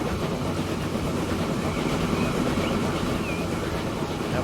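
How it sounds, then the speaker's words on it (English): A steam train from the video game Transport Fever 2 runs with a steady low rumble and rolling rail clatter. It stays constant and fairly loud throughout, with a faint whistling tone drifting above. "Look at that train. Let's go ride on the train."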